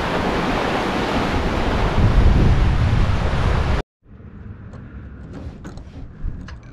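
Strong wind and breaking waves at sea aboard a sailboat reefed twice in about 22 knots and 8 to 10 foot seas; a loud, steady roar of rushing air and surf that abruptly drops to a quieter, gentler wash.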